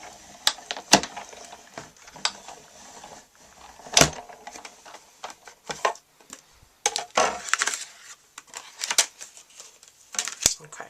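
A manual die-cutting machine is cranked to cut a scalloped circle from cardstock, producing scattered close clicks, ratchety clatter and thumps with uneven gaps between them.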